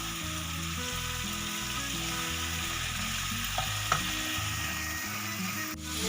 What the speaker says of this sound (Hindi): थोड़ा सा भूनेंगे इसे।